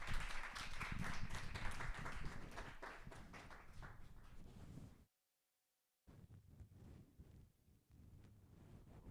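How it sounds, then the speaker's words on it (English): A live event audience applauds at a TEDx talk, a dense wash of clapping that thins out, breaks off briefly to silence, then resumes more sparsely. "please, big round of applause for Robin from Nikin"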